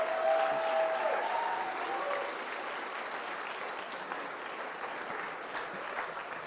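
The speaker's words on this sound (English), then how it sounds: "If we can give Naughty Dog a big round of applause for everything they do." An audience at a Naughty Dog technical art event gives sustained applause, a broad wash of many hands clapping that starts loudest and stays steady, with a faint tonal sound briefly audible early on.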